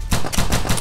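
Rapid burst of about four evenly spaced gunshots from a weapon in the space shooter game From Space, loud and close, with no talking over it.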